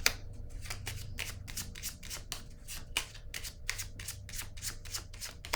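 Cards are handled and laid down during a French card reading, a quick series of crisp riffling flicks and soft slaps, fairly close and quiet, with no talking.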